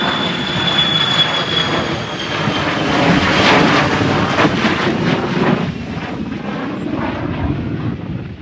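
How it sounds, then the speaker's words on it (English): Fighter jets fly overhead, their engine roar swelling loudly to a peak near the middle and then slowly fading, with no voices present. "I'm seeing fighter jets fly by"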